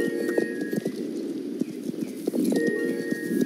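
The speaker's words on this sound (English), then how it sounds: "I love the new horse sound effect" Hooves clip-clop in a steady rhythm close by, with a horse's snorts and a sustained tone running in the background, from a video game horse.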